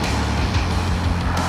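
A Mercedes-Benz EQC 400 electric SUV accelerates, heard as a steady, loud rush of road and wind noise with a low hum, and no engine note.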